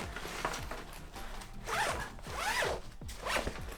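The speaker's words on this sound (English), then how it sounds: "the last party trick of this bag is there's one zipper along the" Expansion zipper running along the outside of a travel bag, opened in several quick rasping pulls, close up and alone with no talking.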